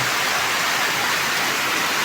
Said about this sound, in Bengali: কী পরিমাণ পানি পড়তেছে